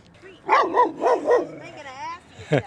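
A dog on a city street at night gives a few close, loud barks and yips, followed by a softer whine, with a person speaking gently around the sounds.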